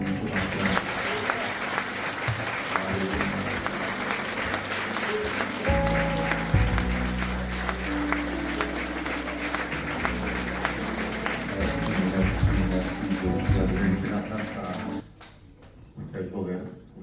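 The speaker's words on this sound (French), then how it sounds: "Est-ce que tu peux encore applaudir Jésus ce matin?" A church congregation claps steadily over sustained organ-like music for about fifteen seconds, then the applause fades out abruptly.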